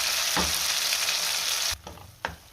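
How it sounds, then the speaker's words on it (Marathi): Loud, dense sizzling of ground masala paste frying in oil for paneer masala, easing down partway through, with a couple of spatula scrapes near the end. "वाटण आपल्याला चांगलं तेल सुटेपर्यंत परतून घ्यायचं आहे"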